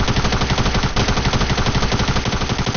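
Video game gunfire, supposedly a shotgun, comes as a loud, dense, continuous volley of rapid repeated shots with no pauses throughout.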